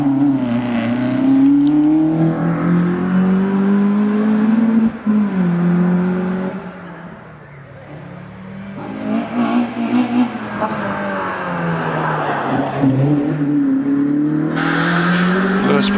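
A Mazda MX-5 on a rally hillclimb run at Prescott, its engine loud and near, revving and shifting through rising and falling pitch sweeps, dipping briefly then building again, with a commentator talking over it.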